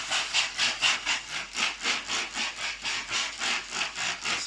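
Steam hisses in steady rhythmic pulses after water goes into a hot Dutch oven holding a country loaf, with a soft, close rushing sound and no talking.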